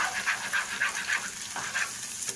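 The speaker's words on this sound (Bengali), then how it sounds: "তো এটাকে এখন ভালো করে ফ্রাই করে নেব" An egg seasoned with black pepper fries in a pan with a steady, close sizzle, and faint stirring scrapes rise and fall through it.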